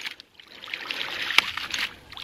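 Water sloshes and trickles as a dual output ram pump starts cycling with its delivery pipes closed, a steady hissing flow with one sharp knock midway, close and moderately loud, no talk.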